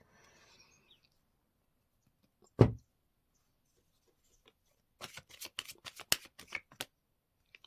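Tarot cards are shuffled close by: a quick, faint series of soft riffling snaps follows a single earlier thud, in an otherwise quiet room.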